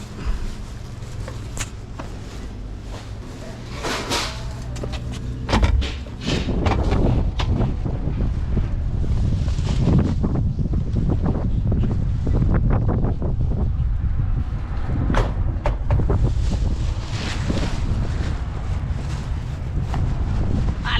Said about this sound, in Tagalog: lamig na simoy ng hangin